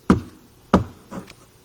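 Three metallic clinks of chains in a spooky haunted-house story setting, two sharp near strikes followed by a softer third, spaced evenly with quiet gaps between.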